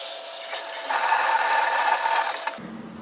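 A sewing machine runs a continuous line of stitching for about two seconds, its fast, even whirring rattle starting and stopping cleanly over a quiet room.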